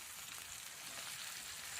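Chopped ginger and garlic fry in oil in a pan in a village kitchen, giving a faint, steady hiss and sizzle with no talking.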